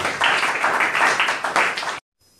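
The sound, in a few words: audience applauding in church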